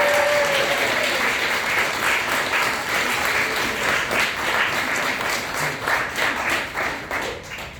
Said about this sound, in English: Please give another hand and a round of applause